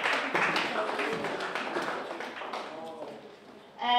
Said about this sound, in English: A round of applause for the team once more.